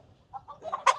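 A hen clucks in short, rising bursts at a home where a child is told to sit, the calls growing louder toward the end with no talk over them.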